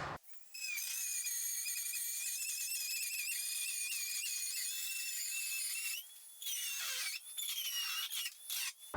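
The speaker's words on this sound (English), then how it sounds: "we're going to grab a Dremel tool, or you can grab a sheetrock saw, whatever, in order to penetrate the body and cut out these perimeters." A Dremel rotary tool cutting into a plastic golf cart body on an EZGO TXT, a high thin whine that holds steady for several seconds, then drops out briefly and returns in short uneven bursts, close and alone.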